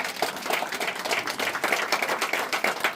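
Guests at a Christian wedding clap together in a brisk, fairly steady stream of hand claps, close and moderately loud with no talk over it.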